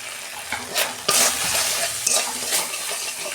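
Spice paste of ground coriander, cumin, chilli powder and salt fries in a pan with a little water, giving a steady sizzle broken by scraping stirs and a few louder bursts, close and without voices.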